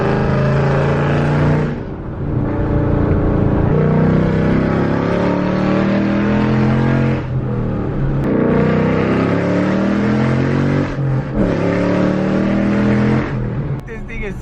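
BMW E36 M3 engine revving loudly and steadily, with rich harmonic drone rising and falling through several throttle swells, close by and continuous, with brief dips between pulls and a person talking over it.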